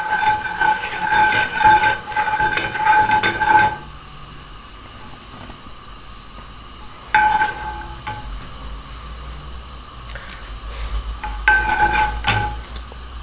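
Oil in a frying pan heating with spices and chillies for a carrot and radish pickle, a steady close hiss and sizzle broken by bursts of stirring and clinking, with no talking.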